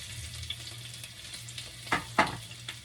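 Garlic fries in a little oil in a pan for Filipino garlic fried rice, a soft, close sizzle with a couple of sharp utensil scrapes near the end, no talk.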